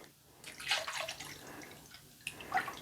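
Melted candle wax pours from a container into a candle mold in a thin, gurgling trickle, with soft splashing bursts that fade briefly and then return.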